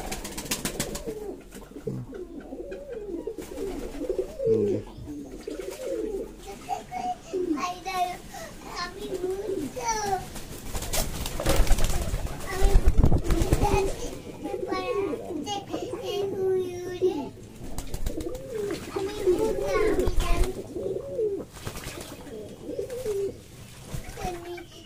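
Fancy pigeons, about twelve pairs, cooing in a home loft, soft throaty coos repeating close by, mixed with voices of people and children talking throughout.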